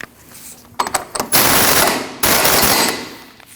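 An axle nut is run down on a 2003-2008 Subaru Forester's front hub during a ball joint replacement, heard as loud, rapid impact-wrench hammering in two sustained bursts after a few short rattling starts.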